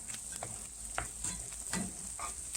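A bubbling mixture is stirred in a pan over heat, with soft sizzling and intermittent scraping, clinking strokes of the utensil against the pan. The sounds are close and fairly quiet, and there is no talking.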